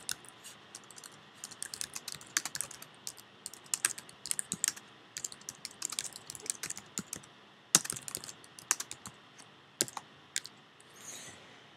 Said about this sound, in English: We'll just type something in here.